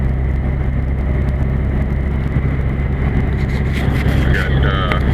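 A car travels the icy, sanded Alaska Highway near Haines Junction, giving a loud, steady rumble of engine and tyre noise with a faint hiss of wind and no break in the drone.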